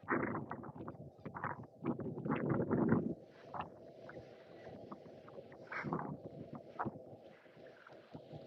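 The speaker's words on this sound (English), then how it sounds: "That's certainly woken me up this morning with the wind." Strong wind buffets the microphone on Fraserburgh beach in North East Scotland on a cold morning, a steady low rumble with gusty surges.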